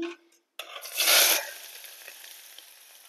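Two medium onions and four green chillies dropped into hot oil, a brief knock and pause before a loud burst of sizzling that swells then settles into a steady, softer fry.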